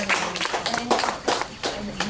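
Audience at a writing talk claps in a close, uneven patter, with some voices mixed in beneath the clapping.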